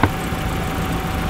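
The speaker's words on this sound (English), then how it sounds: "But we're gonna rev her up." A Nissan S13 240SX engine runs at close range, a steady loud mechanical drone after a brief initial thump, with no voices.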